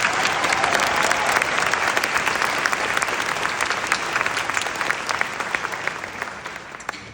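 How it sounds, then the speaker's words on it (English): A graduation ceremony audience claps in sustained applause, a dense wash of many hands that holds strong and then gradually thins, heard without speech over it. "That deserves a round of applause"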